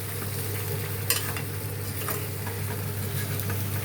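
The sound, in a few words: stirring village-style mango curry in pan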